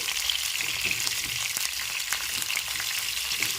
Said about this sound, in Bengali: এখন অল্প পরিমাণে নুন মিশিয়ে নিলাম এবার নেড়ে চেড়ে ভেজে নিচ্ছি